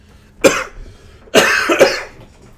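Two bouts of coughing close to the microphone, one short cough followed by a longer, harsher double cough about a second later, with quiet in between.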